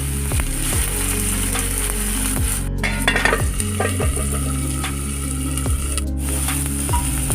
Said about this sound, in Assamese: পুনৰ ভালদৰে লৰাই অকণমান সময়ৰ বাবে ঢাকনখন লগাই দিম